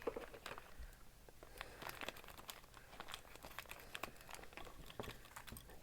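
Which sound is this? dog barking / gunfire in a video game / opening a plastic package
opening a plastic package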